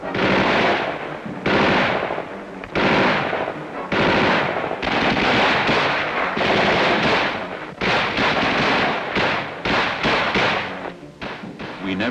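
Vietnam War ambush: loud, close bursts of machine-gun and rifle fire in repeated volleys with thumping impacts, brief gaps between bursts.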